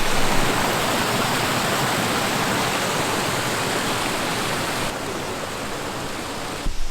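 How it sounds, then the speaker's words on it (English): Pistyll Rhaeadr waterfall in Wales roars close by from the edge of its drop, a dense, steady full-spectrum rush of falling water with no pause. "we're at the edge of the waterfall. The drop of the waterfall is literally just here."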